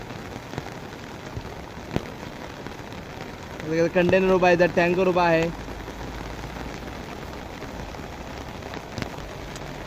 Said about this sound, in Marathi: हे बघा मस्त पाऊस झालाय.